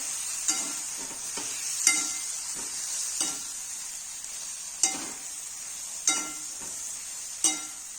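Stuffed eggplant being mixed with masala in a pan, a steady high hiss of frying under repeated spaced scraping and clinking strokes of a spatula, close, with no voices.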